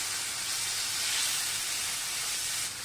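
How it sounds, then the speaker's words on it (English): Chopped tomatoes and masala sautéing in a pan for a Kerala egg roast, giving a steady, bright sizzling hiss that holds evenly and then eases slightly near the end. "We continue to saute all these ingredients together till the raw taste of the vegetables go away."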